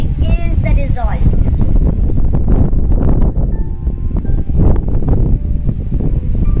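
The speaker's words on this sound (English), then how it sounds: "It's quite windy" Strong outdoor wind gusts batter the microphone with a steady low roar, rustling and buffeting throughout, with brief faint voices and tonal sounds in the background.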